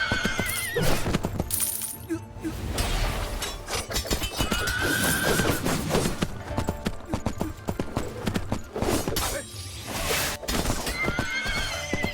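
A horse in the Three Kingdoms Zhao Yun video game whinnies loudly amid clattering hoofbeats and battle clashes, with several neighs rising over a busy, continuous game soundtrack.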